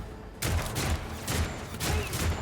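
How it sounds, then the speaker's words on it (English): Automatic gunfire from the Warhammer 40k: Rogue Trader video game comes as several rapid bursts of rattling shots over a steady, dense game soundscape, fairly loud throughout. "these guys really like their auto fire"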